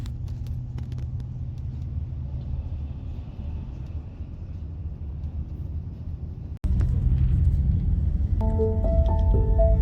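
A car drives along a road, heard from inside as a steady low rumble and tyre noise. Partway through there is a brief dropout, and then the drone returns slightly louder with faint tonal sounds near the end.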